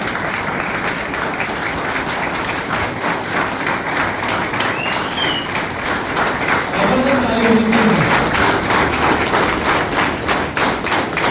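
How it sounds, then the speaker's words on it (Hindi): Enthusiastic audience applause at a crowded indoor gathering, a dense steady wash of clapping lasting throughout, with a brief shout rising midway. "लोगों की जबरदस्त तालियों के साथ"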